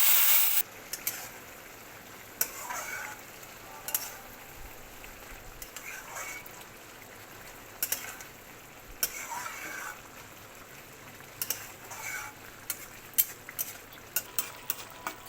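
Crushed garlic tempering sizzles in hot oil in a pan for a Bengali prawn and greens dish, a soft continuous fry punctuated by frequent sharp clinks and scrapes of a spatula stirring against the pan.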